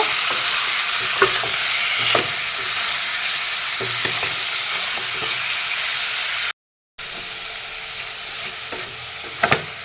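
Chicken curry with potato and tomato is stirred in a pan, giving a continuous close sizzle with scattered scraping strokes and one brief break in the sound near the end.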